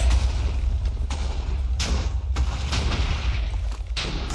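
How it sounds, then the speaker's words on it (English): TNT explosions in a Minecraft Java BedWars match, a loud dense barrage of booms and thuds with several sharp blasts standing out over a continuous low rumble. "TNT fight, Bomberman style indeed"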